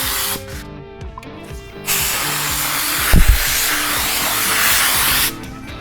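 A loud, steady hiss of a paint spray gun spraying water from a disposable cup system for several seconds, preceded by brief mechanical clicks and a low motor hum throughout.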